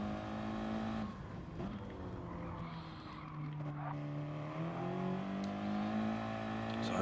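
Audi TT race cars of the P1RC series lapping a circuit on an out lap, engines droning and shifting pitch as they pass, with tyre squeal and skidding, faint voices now and then.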